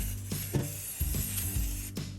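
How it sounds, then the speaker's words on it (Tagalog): Short bursts of cooking spray hissing onto chicharon bulaklak before air frying, several quick sprays over a steady background hum. "Spray mo rin siya ng cooking spray."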